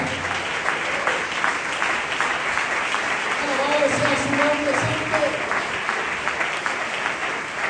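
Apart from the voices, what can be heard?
congregation applause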